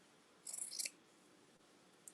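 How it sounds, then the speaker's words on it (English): Scissors snip through quilt batting layers for a half-scale miniature bed, giving a short burst of crisp, close cutting sounds followed by near silence and a faint final snip. "Oop, stuck to my scissors here. And then cut out."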